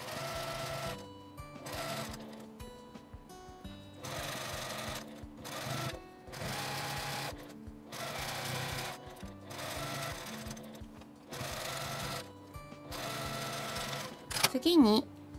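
A sewing machine stitches doll kimono fabric in a series of steady whirring runs separated by short pauses, close and clear, with a brief rustle of handling at the end.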